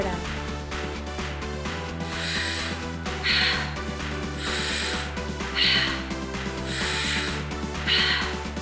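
Slow, deep breaths in a stress-relief breathing exercise: several long, airy breath sounds come in regular waves over steady background music.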